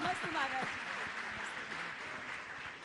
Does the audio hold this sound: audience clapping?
yes